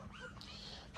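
A dog in a kennel box gives a couple of short, soft whimpers and a thin whine, close by and faint, over a quiet room with no talk.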